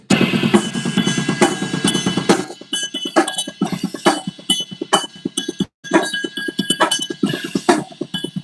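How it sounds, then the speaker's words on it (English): Loud, close drumming with a busy accented pattern on a ride cymbal over kick and snare, pausing briefly before picking back up. No voices. "he's doing an inverted paradiddle pattern on the ride"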